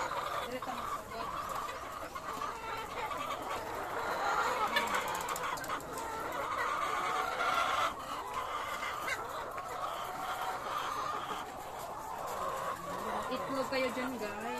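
Many chickens at a poultry farm cluck and squawk continuously in a dense flock chorus around a nearby listener, with people occasionally talking underneath.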